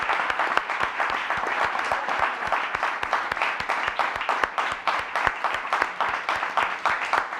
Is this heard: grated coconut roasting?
no